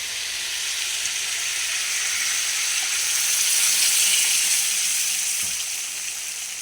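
Boiled water poured into frying chicken and potato curry, producing a broad, continuous hiss and sizzle that swells in the middle and then eases slightly, close and steady.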